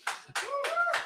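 A few separate, sharp hand claps, about four in a little over a second, sound at a live show, fairly faint and close together with short gaps between them.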